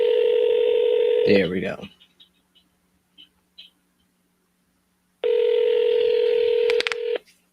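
A phone plays a steady dial tone that cuts off for the redial, followed by a few faint clicks and a short spoken remark. The steady tone then returns, ending with a brief burst of dialing beeps.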